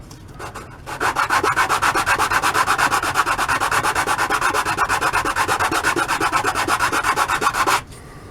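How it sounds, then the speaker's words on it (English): Steady, fast back-and-forth sanding of a small wooden miniature table piece, a continuous rasping scrape that runs for several seconds before stopping abruptly. "And it sands it down fast."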